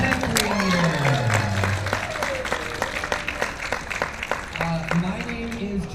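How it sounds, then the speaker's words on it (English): An audience at an improv class for content creators at TwitchCon 2025 claps in a broad, crackling burst of applause, which sits under a voice speaking over it. "give yourselves a round of applause for coming to Improv for Content Creators"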